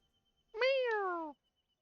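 A single cat meows in a cat simulator video game, one clear, drawn-out meow with a falling pitch, close and isolated against quiet.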